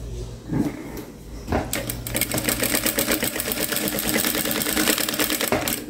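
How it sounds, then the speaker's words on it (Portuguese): A sewing machine stitches patchwork fabric pieces together over a paper base, a fast continuous mechanical whir with rapid needle clatter running steadily after a few handling bumps at the start. "vai juntar os tecidos costurando usando o papel como base."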